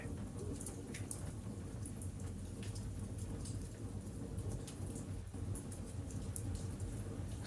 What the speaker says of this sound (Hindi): आपको बाहर हल्की बारिश की पहली बूंदों की आवाज सुनाई दी